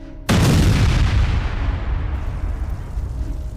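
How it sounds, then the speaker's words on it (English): A large explosion ends an attack on Russian forces: one sudden loud blast, then a long rumbling roar that slowly fades, with no voices. "the attack concludes with a large explosion"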